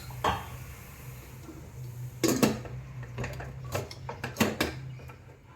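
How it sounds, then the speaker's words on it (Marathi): Several light metallic clanks and clicks as a lid is set and fitted onto a pressure cooker, sounding close and fairly quiet. "आता आपण झाकण लावत आहे"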